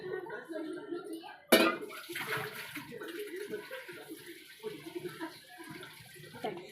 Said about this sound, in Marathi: मग पाणी फेकून देऊया.